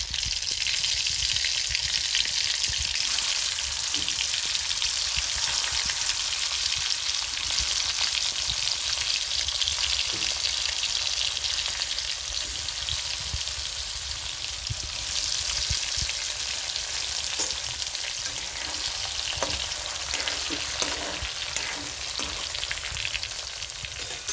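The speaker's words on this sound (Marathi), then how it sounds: "आता हे तेल टाकले, आता कारली टाकली त्याच्यामध्ये" Stuffed bitter gourds frying in hot oil in a pan give a loud, steady, close sizzle that continues unbroken, with faint occasional stirring taps.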